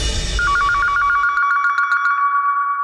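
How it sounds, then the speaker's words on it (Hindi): Landline telephone bell ringing loud and close, a rapid trilling burst that rises out of background noise and keeps going alone. "बेल बज रही है"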